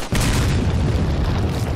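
An explosion in the Resident Evil 4 video game, a sudden loud boom that opens the clip and rolls into a long, heavy rumble that stays loud to the end.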